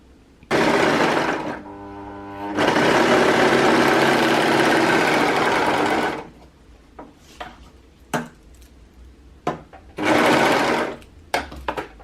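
A sewing machine stitching pieces of a Hudson pants pocket, running in long continuous bursts that halt briefly, then quiet handling noises and one more short run.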